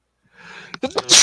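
One person lets out a single loud sneeze, close to the mic, after a short rising inhale, ending in a sharp burst of breath.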